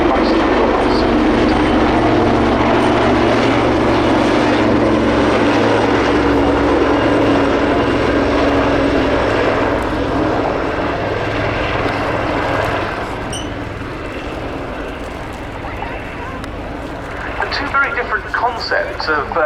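A Wildcat helicopter flies at the RAF Cosford airshow, a steady loud rotor and engine roar with deep low thumping that eases somewhat toward the end, under a commentator's voice over the public address.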